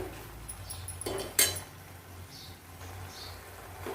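A spoon stirs chili powder into a fenugreek tomato curry in a pot, giving soft, quiet scraping with one sharper metallic clink midway, close by and with no voices.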